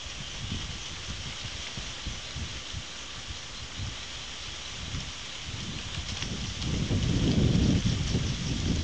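Steady rain falls outdoors near a fish-trapping spot, a dense continuous hiss that swells louder toward the end, with no voices.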